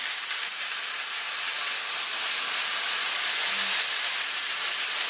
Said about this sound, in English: as long as you hear this sizzling sound, you're doing something right when you're sauteing